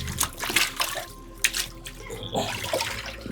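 Cotton inskirt cloth dropped into a container of water for a dye-bleed test, close splashing and sloshing with a few sharp knocks and some background hum.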